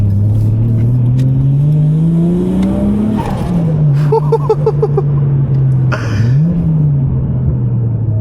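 A turbocharged Toyota JZX100 engine revs up and drops through gear changes, loud and close inside the cabin, with rising pitch, brief shifts and a rumbling exhaust.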